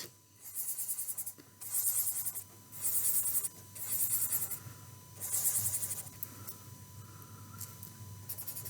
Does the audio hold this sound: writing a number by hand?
yes